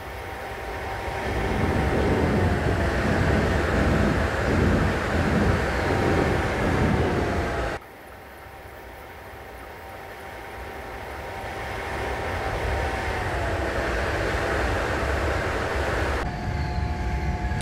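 In Train Simulator 2015, a train on the Ruhr-Sieg Line rumbles past with a steady low roar and clattering wheels, the noise dipping partway through before building again.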